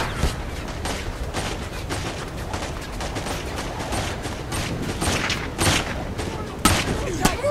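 Rapid gunfire and explosive booms in the Saints Row IV video game, a dense continuous barrage of loud shots with sharper blasts near the end, no speech.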